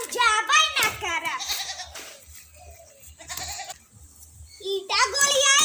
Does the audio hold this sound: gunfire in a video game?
no